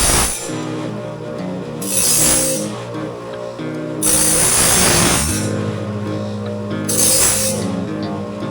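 Melted edges are ground or filed off metal pieces and beveled before welding, a harsh scraping, grinding drone in repeated surges that swell loud and close, then ease back between passes.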